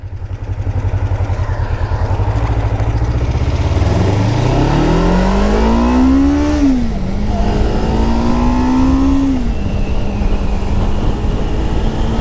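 A 1998 Kawasaki Ninja EX500R sport bike engine drones loud and close while riding, revving steadily upward through the gears with a brief dip at a shift before climbing again, wind rushing throughout.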